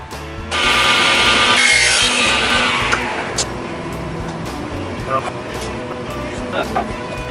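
A saw cuts a wooden tenon for farm table X legs, producing a loud, close rasping burst lasting a couple of seconds that fades into scattered knocks and handling sounds.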